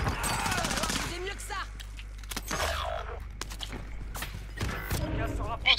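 Gunfire in the battle-royale game Warzone on Rebirth Island, with an M13 SMG in play: sharp shot bursts crackle early and near the end, while players talk over the action.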